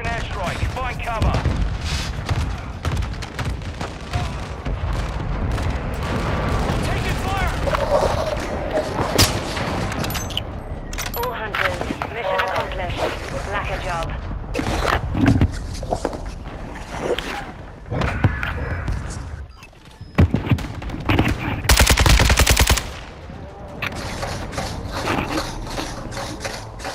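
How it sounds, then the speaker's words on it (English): Friendly mortar strike and gunfire in the video game Call of Duty: Modern Warfare II: a steady, busy barrage of thumps, booms and rapid shots, with voices mixed in and one louder blast near the end. "Friendly mortar strike inbound."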